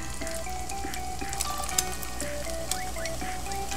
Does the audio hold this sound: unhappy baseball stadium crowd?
no